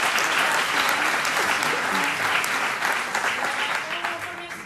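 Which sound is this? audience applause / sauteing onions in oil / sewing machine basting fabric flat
audience applause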